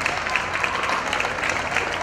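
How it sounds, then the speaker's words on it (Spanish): A crowd claps steadily, dense and continuous applause filling the short stretch. "un maravilloso y fuerte aplauso para todos ellos"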